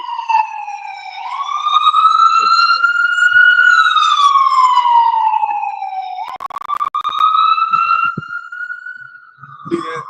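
A police siren wails nearby, its pitch sweeping slowly up and down in a long continuous tone that dips and rises again, loud and dominant with no talk over it.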